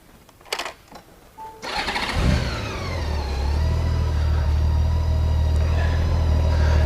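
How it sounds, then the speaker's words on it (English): After a few clicks and a brief starter whine, a motorcycle engine catches and settles into a steady, loud idle with a low rumbling drone close by. "I'm going to start the engine, and then I'll put the 3x5 card in front of the exhaust."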